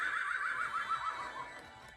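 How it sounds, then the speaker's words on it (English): A recorded unicorn neigh plays from a Don't Tickle children's sound book, a bright wavering whinny that trembles up and down for about two seconds, fairly faint and heard alone. "Don't tickle the unicorn, you might make it neigh."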